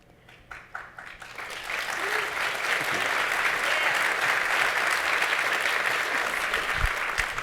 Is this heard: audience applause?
yes